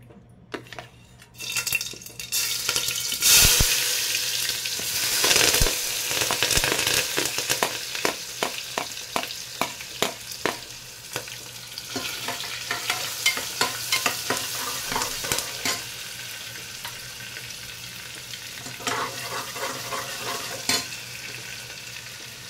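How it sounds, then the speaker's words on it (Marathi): Cumin and mustard seeds temper in hot oil, giving a close sizzle full of sharp popping crackles. A few metallic clinks of a pan and spoon ring out early, then the rapid spattering keeps on steadily. "तेल ठेवलेलं आहे तापत, त्याच्यामध्ये आपण हे जिरे मोहरी फोडणीसाठी घालायचे आहे"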